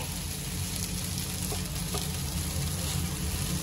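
Ragi neer dosa (ghavan) cooking on a hot pan, a steady, dense sizzle that holds even from start to finish, with no one talking.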